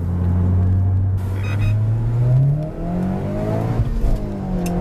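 A modded Honda Civic Si engine revs hard into VTEC, heard loud and close from inside the car as the pitch climbs steadily, dips on a gear change, then pulls upward again.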